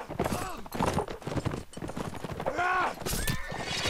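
Rapid clip-clop of a galloping horse in Mount&Blade: Warband, with a loud whinny partway through and faint battle noise around it.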